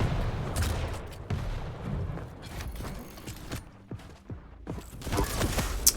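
Rapid bursts of rocket launcher fire and explosions in a Quake arena match, sharp repeated blasts and impacts layered with clattering in-game mechanisms, loud and close throughout with no talking.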